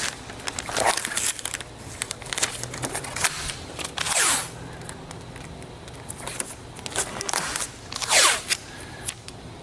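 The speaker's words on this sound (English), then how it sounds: "Take me 2 seconds to just put some tape on here." Tape is pulled and pressed onto the case panels of an M2CS keyboard during polishing, with crinkly handling and two sharp ripping swipes as strips tear off the roll, close and fairly loud.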